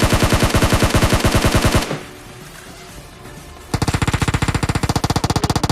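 PUBG Mobile gunfire: loud, rapid automatic bursts stop for a quieter stretch of about two seconds, then resume as sustained close fire.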